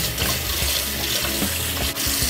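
Running tap water pours over galunggong fish as they are rinsed in a sink, a steady close splashing stream lasting a couple of seconds with small clatters of handling.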